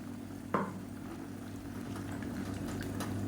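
A quarter tumbler of water from a rinsed mixer jar goes into a kozhukattai dough mixture cooking on the stove: a short splash near the start, then a steady low bubbling sizzle that carries on, with no talk.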